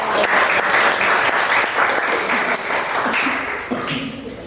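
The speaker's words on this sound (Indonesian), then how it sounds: "Kita beri aplaus." A classroom audience applauds after a student group's presentation, a dense burst of clapping that holds steady for several seconds and then thins slightly, close and loud.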